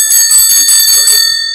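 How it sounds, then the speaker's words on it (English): Brisk metallic rings from a service bell, several quick strikes in a row with bright lingering tones that fade out at the end, loud and alone. "This is the bell for service."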